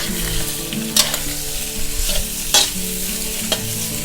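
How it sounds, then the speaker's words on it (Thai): Macaroni and sliced sausage tossed and stirred in a frying pan, a steady sizzle underneath with a few sharper scrapes and clinks of the utensil, close and fairly loud, no talking. "คลุกเคล้าให้เข้ากันค่ะ"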